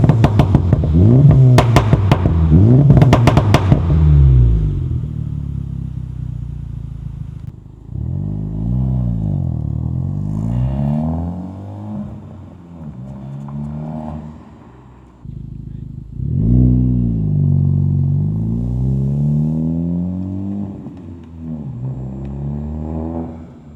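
A 2024 Acura Integra Type-S with an A'PEXi N1-X catback valved exhaust set to Sport Plus revs hard, with loud rising and falling engine sweeps in repeated bursts, close and up front.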